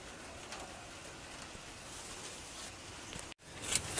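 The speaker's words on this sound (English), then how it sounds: "Oh god, it's raining now." Steady hiss of rain falling outdoors, continuous and fairly soft, with a faint bird cooing in the background and a brief cut near the end.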